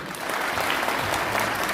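An audience applauds at a Korean resident self-governance convention and awards ceremony, with a short burst of close, dense clapping that swells quickly and stays full.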